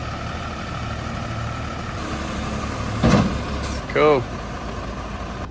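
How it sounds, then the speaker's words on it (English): A tow truck idles in the rain while a broken-down Ford is loaded, a low steady engine rumble underneath, with a brief hiss and a short whining burst from the equipment, and a voice speaking briefly. "Car's getting towed now."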